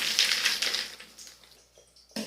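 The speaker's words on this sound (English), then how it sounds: "And pour it into the flour." Canned corn kernels are poured from a measuring cup into a bowl of flour, a short wet sliding pour that is faint and quickly fades, ending with a brief soft clatter.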